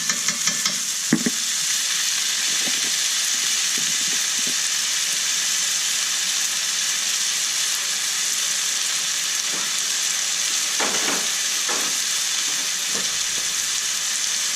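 Garlic and onions sizzling in a pan for Oklahoma-style risotto, a steady, bright frying hiss running throughout with occasional scraping stirs and clinks from a utensil.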